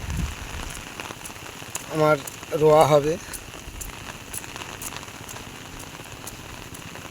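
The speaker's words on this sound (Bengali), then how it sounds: "বৃষ্টি তো হচ্ছে, ছাতা মাথায় আছে।" Steady rain patters on an umbrella during a walk, a continuous close hiss of drops throughout, with a person speaking briefly in the middle.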